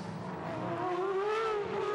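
A Superleague Formula race car on a qualifying hot lap going through a chicane, its engine note climbing steadily as it pulls through, heard at a moderate distance and alone.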